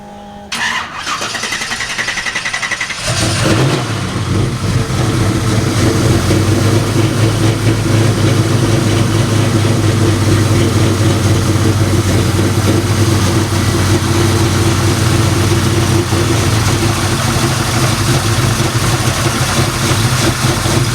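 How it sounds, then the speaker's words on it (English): At a cruise-in, a car engine cranks briefly, catches and roars to life, then settles into a loud, steady idle that runs for close to twenty seconds with no one speaking. "We're going to be listening to the sound of this engine."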